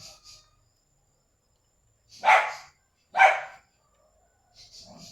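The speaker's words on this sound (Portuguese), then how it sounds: "tem barulho de cachorro, é porque já tá na hora da janta deles" Dogs on a rural property bark for their dinner: two loud, separate barks about a second apart, fairly close, with quiet gaps and faint insect chirps around them.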